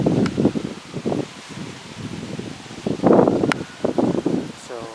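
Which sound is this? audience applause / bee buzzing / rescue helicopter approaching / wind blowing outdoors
wind blowing outdoors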